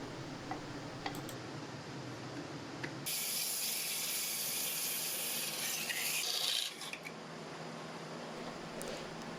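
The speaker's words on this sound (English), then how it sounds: "Turning and sanding the rim until the lid fits." A wood lathe turns a small wooden button box while the rim is sanded, a soft steady rubbing hiss that swells louder for a few seconds in the middle over the lathe's low hum.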